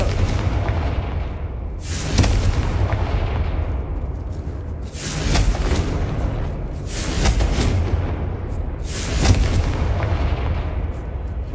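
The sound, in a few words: Confringo fire spell cast in video game Hogwarts Legacy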